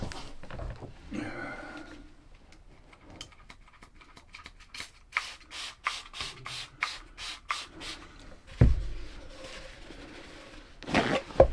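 Scrubbing a grease stain off an RV floor with a cleaner: a run of quick, even back-and-forth rubbing strokes at close range, with softer scuffs and handling noises before and after.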